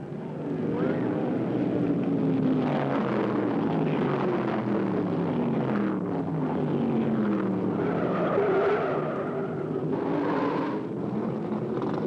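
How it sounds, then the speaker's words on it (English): A Ford stock car spinning out in loose dirt through turn four at Martinsville Speedway during the 1975 Virginia 500, a long, loud skid and engine roar that stays steady throughout. "He got out in the loose stuff through turn 4 and put his Ford on a full spinner."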